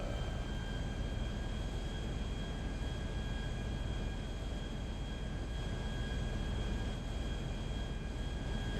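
An airplane flying in Grand Theft Auto 5, a steady loud engine drone with a constant whine, unbroken and unchanging throughout, with no voices.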